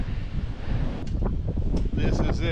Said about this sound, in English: It's super windy up here today.